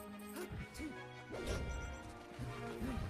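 Forward smash attacks landing in Super Smash Bros. Melee during a Worcester-area weekly tournament match, several sharp crashing hits spread across the moment over constant game music and crowd noise, with faint speech in the background.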